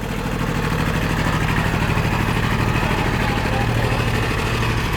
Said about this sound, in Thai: เป็นเครื่องยนต์สามสูบนะครับ